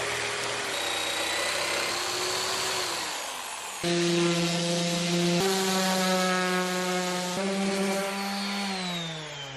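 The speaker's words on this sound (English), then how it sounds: "I'll just use the jigsaw." A jigsaw cuts plywood for a DIY houseboat wall, its motor whining at a steady pitch that shifts up and down as the blade loads and eases, running continuously and fairly close.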